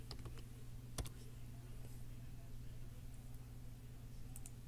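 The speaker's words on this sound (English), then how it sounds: "I'm going to type live." Rapid, soft keystrokes on a computer keyboard as a list is typed, a few faint clicks close by against a low steady hum.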